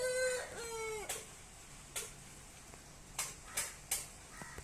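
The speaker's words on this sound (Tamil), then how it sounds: "இது வந்து ஆப்போசிட்டில் கட்டியிருந்த சேவல்." A tethered black rooster gives a single crow near the start, followed by scattered clucks and brief sharp sounds at low volume in a quiet outdoor setting.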